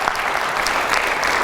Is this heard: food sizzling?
no